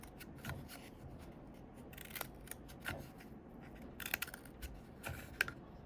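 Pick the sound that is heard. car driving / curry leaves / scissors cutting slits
scissors cutting slits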